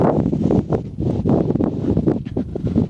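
Gusty wind buffets a nearby microphone in uneven rumbling bursts, with rustling mixed in, fairly loud and continuous.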